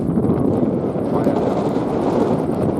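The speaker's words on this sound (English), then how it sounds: "it is kind of windy, but it's kind of windy everywhere here at the moment" Wind at the Millau Viaduct buffets the microphone with a steady, loud rumbling roar that barely lets up throughout.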